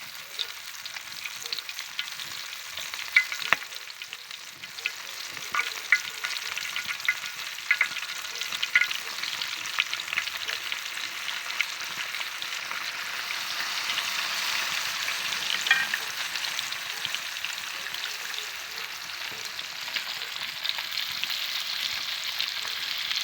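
Crucian carp sizzles and crackles steadily in a hot pan, a close, continuous frying hiss with occasional sharper pops and no voices.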